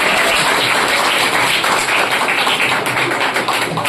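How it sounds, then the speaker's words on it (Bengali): Students at an academy award ceremony applaud, producing a dense, continuous patter of many hands clapping close by with no break. "সবাই হাততালি দাও।"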